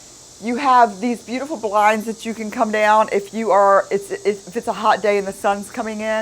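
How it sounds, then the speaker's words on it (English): Cicadas outside a screened-in porch in Chesapeake, Virginia, a steady high-pitched buzzing drone running in the background beneath a person talking close by. "You can hear the cicadas right now."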